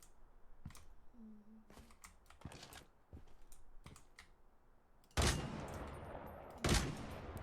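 Gunshots in the video game Lost Light strike a rock, sounding as two sharp, loud bursts near the end after a stretch of quieter clicking and faint background noise.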